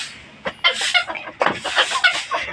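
Hens clucking, including a hen that has recently begun laying eggs, in a series of short, fairly close calls with no talking.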